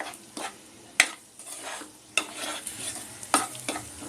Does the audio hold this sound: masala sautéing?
yes